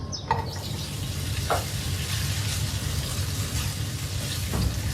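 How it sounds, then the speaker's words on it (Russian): Bacon frying in a little vegetable oil in a hot pan, a steady close sizzle with occasional stirring scrapes and no talk. "Наливаю небольшое количество растительного масла и отправляю обжариваться бекон."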